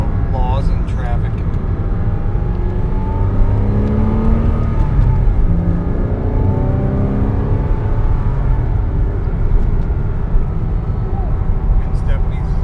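Porsche 987.1 Cayman S engine running loud and steady, with rising and falling pitch sweeps as it revs and accelerates, continuous throughout under faint background voices.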